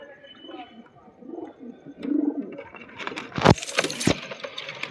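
Pigeon coos softly and closely in a few low rounded calls, then sharp rustling or clattering bursts near the end.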